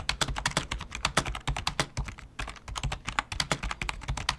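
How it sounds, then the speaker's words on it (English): Rapid, clacky typing on a computer keyboard, with dense, uneven bursts of sharp key strikes close up and no voices over them. "It's like a noisy, clacky typing experience"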